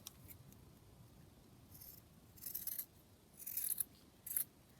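Scissors snipping fabric strips for making fabric paperclips, a few quiet crisp cuts in short clusters, close by over faint background hiss.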